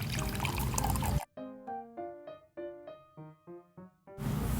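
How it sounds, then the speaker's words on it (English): Water gushes loudly into a large container in a short burst, then a run of bright, plinking melodic notes follows before the pouring rush returns. "Fill a large container with water about 3/4 the way full."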